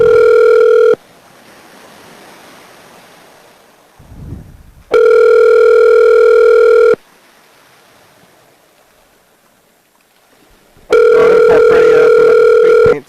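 A telephone call rings out with two loud steady electronic ring bursts separated by long pauses of faint hiss, then a third burst begins, each tone buzzy and sustained for about two seconds.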